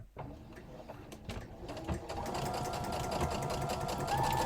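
A domestic sewing machine runs a steady, close motor whir as it stitches through a thrifted scarf, a few clicks and fabric handling coming first before the continuous hum settles in.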